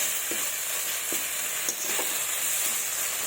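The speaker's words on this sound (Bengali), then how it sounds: "তো এবার আমি ভালোভাবে কষিয়ে নেব মশলাটাকে।" Spiced masala paste for a spicy soybean curry is sautéed in a pan, giving a continuous loud sizzle broken by a few stirring scrapes, with no voices.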